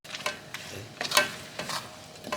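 Spoon stirring melting palm sugar and grated coconut in a pan, a series of soft scraping strokes at an irregular rhythm over a faint simmering sizzle, close and quiet.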